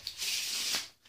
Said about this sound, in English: you shuffle it up